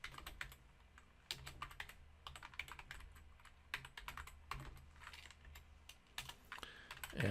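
Computer keyboard keys clatter in steady bursts as Java unit-test code is typed, clicks close and fairly soft with brief pauses between runs.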